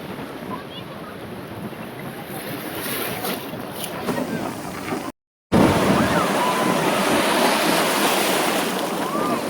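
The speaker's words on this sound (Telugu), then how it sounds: "ఒకసారి మీరు కూడా అలల చప్పుడుని దగ్గరగా వినండి" Ocean waves roar and wash in close by on the beach at Chirala, a constant rushing surf mixed with wind buffeting the microphone, briefly cutting out midway.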